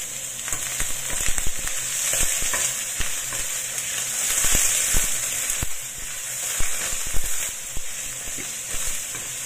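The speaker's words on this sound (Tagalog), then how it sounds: "I-fry lang natin yan hanggang sa lumabas yung aroma ng ating onion" Onion balls frying in a pan for beef curry, a strong bright sizzle with crackling pops and stirring scrapes throughout, close-up and steady with no speech.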